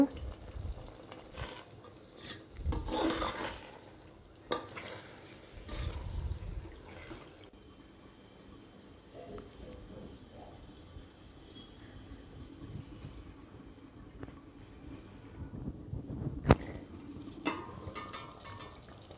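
Mutton for dum biryani simmers in water in a pot, giving a soft, uneven bubbling and sizzling with occasional louder stirs and clatters, while a voice talks faintly at times.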